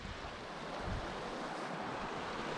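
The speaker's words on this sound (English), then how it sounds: "it's often so peaceful just hearing the water flowing" Clear, crystal-clear stream water flows past a tubular metal and wood bridge in Glen Clova, Scotland, making a steady, unbroken broadband rush that fills the whole stretch without any voices.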